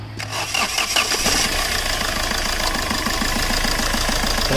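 A Hyundai diesel car, such as a Verna, Accent, Xcent or i20, with injector circuit fault codes cranks briefly and catches, then settles into a loud, close, steady idle with a rhythmic diesel knock.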